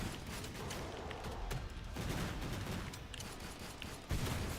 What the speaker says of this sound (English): Starting it out right with some big explosions.